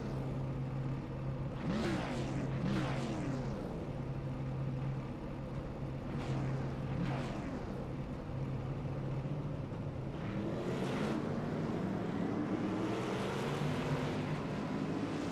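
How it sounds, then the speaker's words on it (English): A pace car leads a field of race cars rolling off at the Saturday Night Thunder 2024 All-Star Race, a steady low engine drone with gentle swells as cars pass. "the first thing we gotta see is the pace car on the move"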